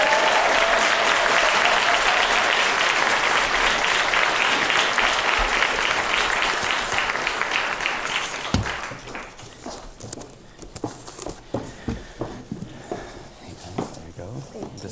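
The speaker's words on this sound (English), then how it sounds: "can we give them a round of applause?" An audience at a 2013 AAFE conference applauds youth leaders called to the stage, a dense, loud burst of clapping that thins out after about eight seconds into scattered claps.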